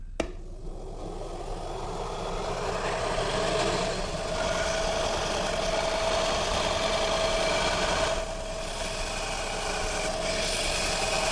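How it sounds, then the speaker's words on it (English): A belt sander rolls the front edge of a wooden high chair seat, giving a steady, loud, continuous grinding whir with a sustained tone that runs unbroken from start to finish, with no voices. "to do that I'll use my belt sander"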